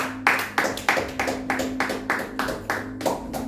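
Church congregation clapping together in a fast, even rhythm, a run of sharp, fairly close claps repeating about three times per second over a faint sustained hum.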